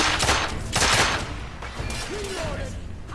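Gunfire during a dockside shootout in the video game The Order: 1886: a few loud, close shot blasts early on, then quieter scattered impacts under faint background game sounds.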